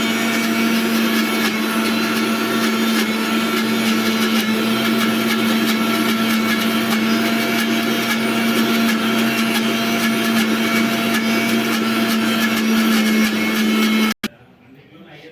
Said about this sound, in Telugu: గ్రైండింగ్ అవుతూ ఉంటాయండి మిక్సీలో